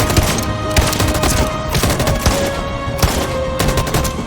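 Gunfire from the video game Detroit Become Human: a rapid series of loud, sharp shots in irregular bursts, close and dense, with no speech.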